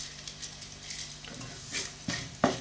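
Cumin seeds for mattar paneer masala sizzle softly in a pan under a few scraping stirs, with a sharper metallic scrape near the end, close up and without speech.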